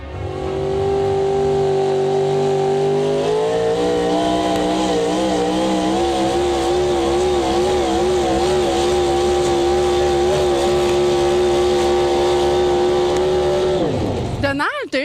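Tractor pulling engines roar at the Grand National de tir de tracteur in Saint-Hyacinthe, a loud, sustained mechanical drone with a wavering pitch that climbs and then drops sharply at the end.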